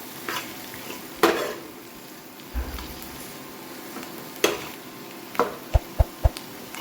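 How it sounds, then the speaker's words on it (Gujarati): A spoon scrapes and knocks against a pan while a potato stuffing is stirred, with faint sizzling beneath and a quick run of taps at the end. "બટાકા સ્ટફિંગ એડ કરી દઈએ. સરસ એ પણ મિક્સ કરી લઈએ"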